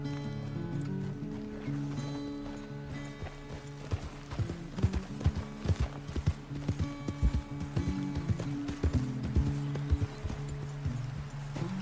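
Horse hooves clip-clop at a steady riding pace in the Red Dead Redemption 2 video game, with sharp, regular hoof strikes standing out over continuous background game music.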